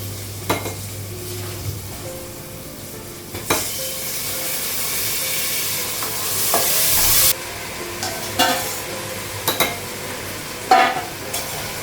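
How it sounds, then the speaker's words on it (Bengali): Rice grains frying in a pan with spices, a steady sizzle under intermittent scrapes and clinks of a spoon against the pan, one burst of louder hissing midway, close and without speech. "চালটা একটু ভেজে নেব"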